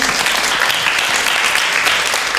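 An audience at an Islamic religious talk applauds a speaker, loud dense clapping filling the space evenly for a couple of seconds with no pause.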